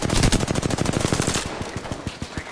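Gunfire in Apex Legends, a loud, close automatic burst of rapid evenly spaced shots that keeps going, then thins and trails off near the end.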